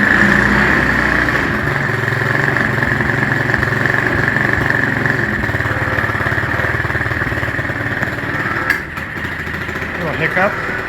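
A Tao Tao buggy engine running at a steady, rough idle, close and fairly loud, with someone talking over it for much of the time.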